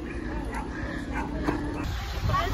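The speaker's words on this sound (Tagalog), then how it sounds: "Yung mga aso." Dogs bark and yip in short bursts amid outdoor noise, with people talking nearby, in the Philippines during World Youth Day 2023.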